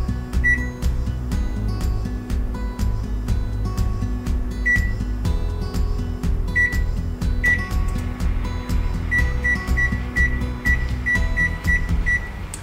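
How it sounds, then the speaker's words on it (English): An oven control panel set to preheat to 350 degrees Fahrenheit for baking scuffins, giving repeated short electronic beeps over a steady appliance hum, with no one speaking. "So my oven is set for preheating"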